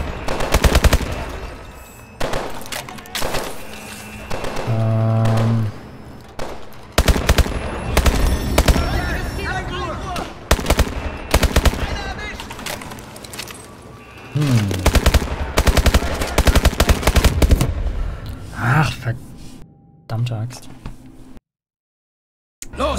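Rapid automatic gunfire from Call of Duty: Advanced Warfare, loud bursts of machine-gun fire with short gaps between volleys, followed by a few scattered single shots and a brief silent drop near the end.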